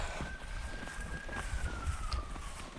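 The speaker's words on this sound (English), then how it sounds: "there's police sirens." A police car siren in the Somerset countryside wails faintly and far off as one long, slowly falling tone over outdoor background noise and light footsteps.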